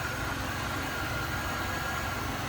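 A 2003 Chevrolet Monte Carlo SS with its 3800 V6 idles steadily under the open hood, a smooth even hum with no talking.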